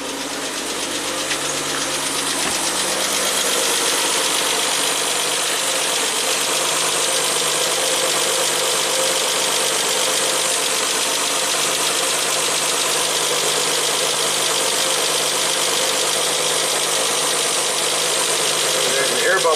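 A 1967 Triumph GT6 engine, parked since 1999, runs steadily on its carburettors, a loud continuous mechanical drone with a rough, knocking edge that holds throughout. Someone speaks briefly over it.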